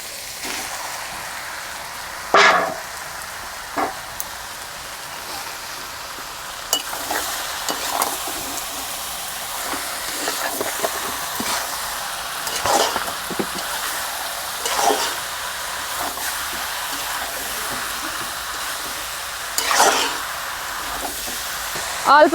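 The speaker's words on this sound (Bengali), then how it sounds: "ম্যারিনেট করা মাংসটা দিয়ে দিচ্ছি পেঁয়াজ হালকা হালকা কালার এসে গেছে" Marinated chicken pieces fry with lightly browned onions in a pan, giving a continuous sizzle punctuated by repeated, sharp spatula stirs and scrapes at close range.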